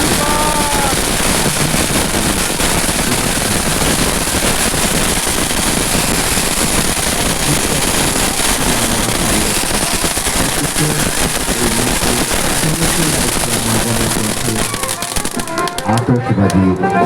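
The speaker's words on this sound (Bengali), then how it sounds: "আতশবাজি প্রদর্শনী। জলদি জলদি ফাটাও।" Fireworks display bursting at a Lions Club event in Chandanpur, Charalkhali, with a dense, continuous run of sharp crackles and pops that carries on loudly for the whole stretch while voices sound underneath.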